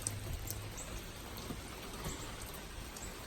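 Steady rain falling outdoors, a dense even hiss of drops on surfaces with scattered brief taps, continuous and moderately quiet throughout, no voices.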